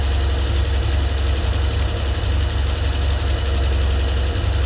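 A Volvo 1800S engine idles steadily and close by, a continuous low rumble with no whine after a kinked hose from the valve cover cap to the carburetor was fixed.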